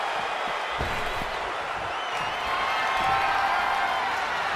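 A large crowd roars and cheers steadily throughout, a dense, far-off wall of voices that swells slightly toward the end.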